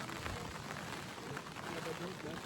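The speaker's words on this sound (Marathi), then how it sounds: "पाऊस आहे बघा, पावसाचं असं आहे 2-3 मिनटं होतो आणि थांबतो, परत येतो." Rain falls steadily at a sunset spot on Kauai, Hawaii, a soft continuous hiss of drops on surfaces that stays even and fairly faint throughout.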